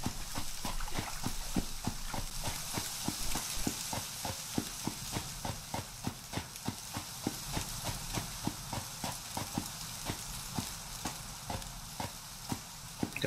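Horse hooves clip-clop in a steady, regular rhythm in the video game Citadel: Forged with Fire, each step a crisp, close hit over a faint hiss, with no one speaking.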